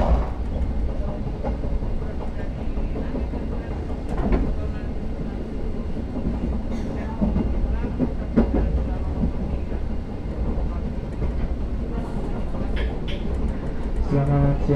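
Inside the Argo Muria passenger train near Semarang, a steady low rumble with faint rhythmic rail clatter runs throughout, with quiet voices and occasional cabin sounds mixed in.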